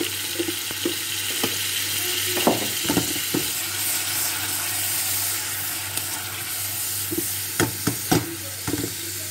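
Old white wine sizzling as it evaporates in a hot pan of stuffed squid, with occasional stirring clatters and scrapes, a steady hiss underneath brief utensil knocks.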